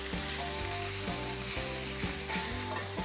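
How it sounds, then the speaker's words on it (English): Chopped lobster frying in olive oil with garlic, a loud continuous sizzle with rhythmic scraping strokes and tonal hum from the pan, no voices. "chop this up and then fry it off in a little bit of olive oil and some garlic"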